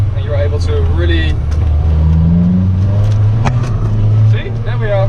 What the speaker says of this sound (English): the engine just wakes up